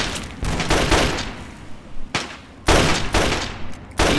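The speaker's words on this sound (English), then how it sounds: "You guys can shoot better than that." Soldiers in Fallout 3 fire their guns in rapid bursts. Loud clusters of shots come close together, with short gaps between volleys.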